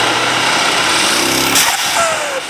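Loud, continuous engine roar from an AMG E63s wagon making a full-throttle pull with boost intake pipes fitted, droning steadily before a sharp change and a falling whine near the end.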